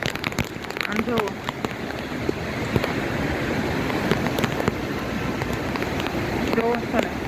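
Downpour in Junagadh on the road to Damodar Kund, a dense, continuous hiss of falling rain with spattering drops close by and occasional faint voices beneath it.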